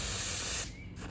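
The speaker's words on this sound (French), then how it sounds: "je vais envoyer la vapeur" A steam cleaner gun purging steam while cleaning a car interior, a loud, close, steady hiss that cuts off abruptly after about half a second and leaves quieter background.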